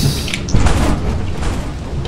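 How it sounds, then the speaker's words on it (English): Fireworks exploding in the video game Lethal Company: a dull booming burst about half a second in, followed by a rumbling, crackling wash that lingers at steady loudness. "Watch the fireworks!"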